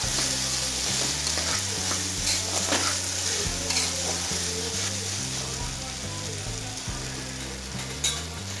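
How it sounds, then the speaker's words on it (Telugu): Tomatoes, beans and carrots fry in a pan for brown rice kichidi, a constant close sizzle with intermittent stirring scrapes; a low hum runs underneath. "టమాటో మగ్గేంత వరకు ఉంచుకుందాం"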